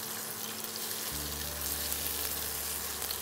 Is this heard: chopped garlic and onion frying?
yes